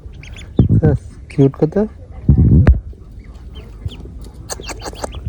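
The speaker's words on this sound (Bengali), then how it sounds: "আমাদের গ্রামে নিয়ে আসে হাঁসের বাচ্চা" Young ducklings brought to a village give short, high, nasal peeps and quacks in scattered bursts, close by and mixed with people chatting over them.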